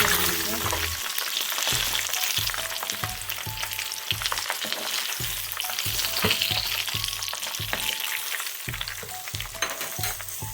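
Chili and other ingredients fry steadily in oil for a chicken wings dish, a dense close crackle with a low stirring or scraping pulse repeating at a regular beat throughout.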